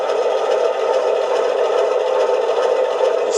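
An LGB 2062 model locomotive fitted with a DCC sound decoder idles, giving a steady, even engine hum with a faint rattling texture that holds unchanged throughout, with no voices.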